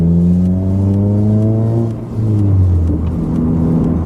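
A Mazda 3 fitted with a CorkSport exhaust revs loudly nearby, the engine note climbing in two rising sweeps with a brief dip between them, with no talk.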